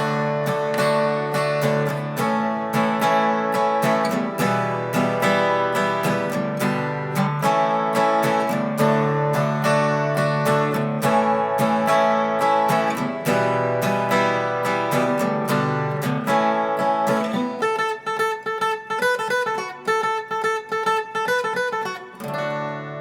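Strummed guitar chords of a song's chorus ring out in a steady rhythmic pattern, moving through a progression before shifting to lighter, picked notes near the end.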